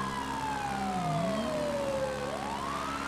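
Police sirens wail in the video game GTA 5, a wavering tone sweeping down and back up, with another siren overlapping, over steady traffic rumble, moderately distant.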